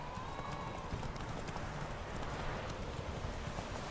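A horse gallops in the video game The Witcher 3, with rapid, steady hoofbeats running continuously under faint game ambience.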